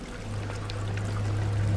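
Water pours or runs steadily in the dark underground setting of Amnesia: The Dark Descent, a continuous hissing trickle with a low hum beneath, gradually growing slightly louder, without talking.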